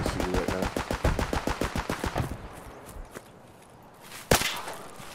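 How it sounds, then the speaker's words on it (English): Video game gunfire in a PMC extraction shooter: a rapid automatic burst of evenly spaced shots for about two seconds, then quieter ambience and one later sharp loud shot, no talking. "I'm getting shot at."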